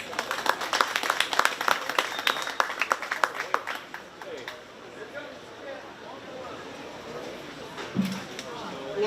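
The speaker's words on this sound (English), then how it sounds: "Let's give her a big round of applause." Applause from the crowd at a 4-H sheep and goat show at a county fair, with a burst of claps that fades away as an announcer keeps speaking over the arena noise.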